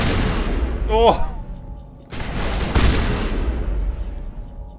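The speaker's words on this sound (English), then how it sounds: "Is the gunfire still a bit loud" Bursts of gunfire and booming blasts from the video game Mass Effect ring out loud and close, mixed with a sweeping electronic effect and people talking over the action.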